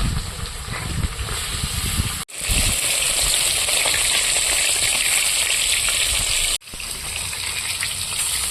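Catla fish frying in hot oil in a wok, a loud continuous close-up sizzle and hiss that cuts out briefly twice before resuming, no talking.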